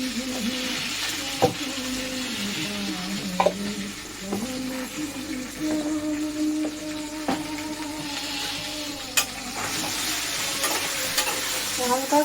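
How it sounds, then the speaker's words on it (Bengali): Cumin seeds sizzling and frying in a steel wok while a utensil scrapes and stirs them, producing a steady close hiss with scattered sharp metallic clinks. "হালকা একটু ভাজা করে আমি জল দিয়ে দেবো।"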